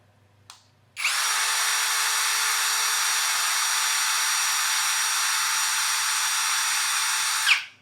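A Lucid LX-50 Gen 3 cordless drill in drill mode at speed 1 spins up and runs at a steady high whine for several seconds, then winds down and stops, loud and close.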